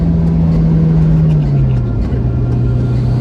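A Ford Puma accelerating in fifth gear, heard from inside the cabin as a loud, steady engine drone whose pitch dips slightly, over road and wind roar.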